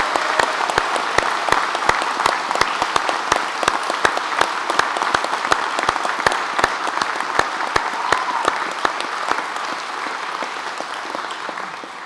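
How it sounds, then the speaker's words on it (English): An audience applauds graduates at a Cambridge graduation ceremony: dense, sustained clapping from many hands, loud and even throughout, slowly tapering near the end. "your family, friends and supporters have applauded, cheered, hollered, celebrated your achievements"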